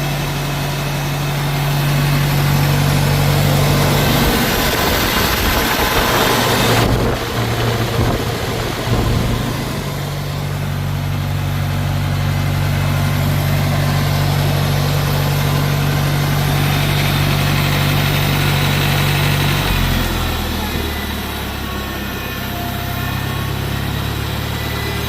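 A restored 1958 Farmall 450 tractor engine runs and idles with a steady low, throbbing drone and some rough fluctuations and pitch shifts partway through, loud and close with no talk.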